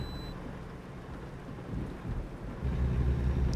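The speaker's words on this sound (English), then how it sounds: "I can't even see out my windshield with all this rain" Heavy rain drumming on a truck windshield in a trucking video game, a dense continuous wash of noise with a low rumble swelling toward the end.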